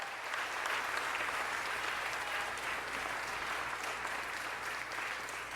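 Steady applause from an audience at a neighborhood congress opening session, honoring a singer, continuous and dense throughout with no break.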